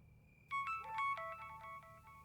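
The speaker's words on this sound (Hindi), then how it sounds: "रात के इस टाइम किसका फोन आ रहा है?" Phone ringtone chimes late at night for an incoming call, a repeating electronic melody of bright tones that starts suddenly and plays on, fairly quiet, over a low background hum with no talking.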